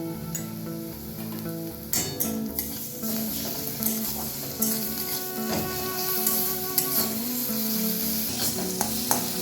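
Ground spice paste of ginger, dried red chilli and fennel sizzles as it is stirred in a pan for a rohu fish dish, a steady frying hiss broken by scraping strokes of the spoon against the pan, close and continuous.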